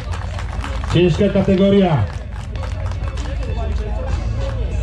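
Crowd applause at an outdoor wreck race award ceremony, a broad continuous clatter of clapping spread across the whole stretch, with a man announcing loudly over it in the first part.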